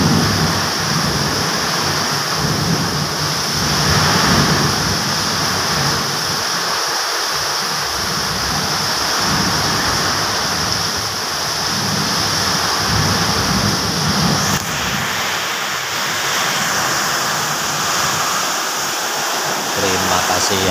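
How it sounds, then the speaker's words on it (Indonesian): Steady rain and wind pour down in a continuous heavy hiss, loud and close, with a slight shift in tone partway through. "Terima kasih ya Allah sudah diberikan hujan"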